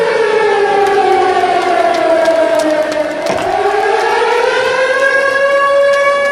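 An air raid siren wails loud and steady, its pitch sliding down and then climbing again in a long continuous tone that fills the whole stretch.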